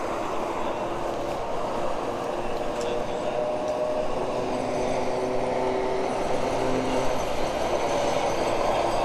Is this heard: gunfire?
no